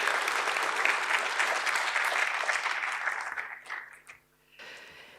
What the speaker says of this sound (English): Please applaud NAVA.